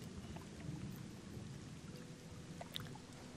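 Steady rain in the fantasy role-playing game Gothic 2, a soft continuous patter and hiss with low rumbling underneath and an occasional brief tick, with no talking.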